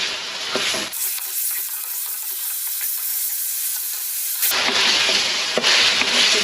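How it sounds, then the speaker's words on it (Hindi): Oil sizzling loudly in a pan of chicken ginger karahi, a steady hissing fry that eases to a lower simmer for a few seconds, then flares back up to a bright, crackling sizzle. "लेकिन मैं ऑयल डाल रही हूँ।"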